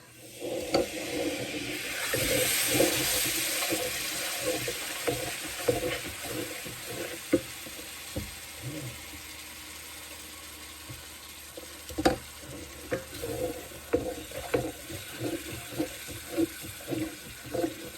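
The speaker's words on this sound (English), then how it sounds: "So I'm just going to keep adding broth." Broth added to a pan of French beef stew (boeuf bourguignon) with bacon: a loud, bubbling sizzle with splashy, irregular pours and clinks that swells early, then keeps bursting in uneven spurts.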